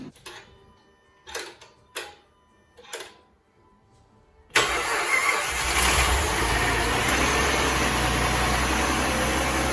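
A Jeep Commander engine cranks and catches, settling into a loud, steady idle after a few seconds of quiet clicks and small knocks from inside the car.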